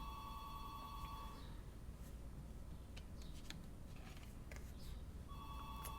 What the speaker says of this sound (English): Pardon the phone. It's the neighbors.